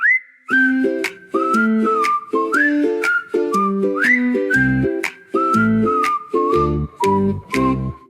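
A slide whistle plays a bouncy tune of short swooping notes, with a plucked, thumping accompaniment joining partway through.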